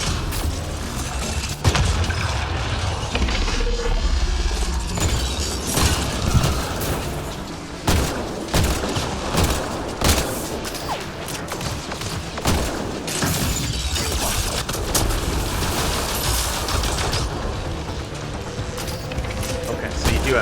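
Enemy gunfire rattles through a Mass Effect Andromeda firefight, sharp scattered shots and impacts over a loud mechanical din with low rumbling, continuing throughout.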